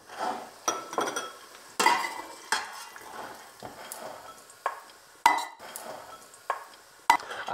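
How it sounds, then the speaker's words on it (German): Fried chorizo being lifted out of a soup pot with metal utensils while preparing lentil soup, giving repeated close clinks and scraping stirs against the pot at an irregular pace, with faint sizzling of the fat left behind. "die kommt jetzt wieder raus aus dem Topf"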